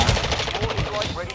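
Rapid automatic AK rifle fire from a Kastov-74U in Call of Duty: Modern Warfare II, a dense, continuous burst of loud shots running through the whole moment.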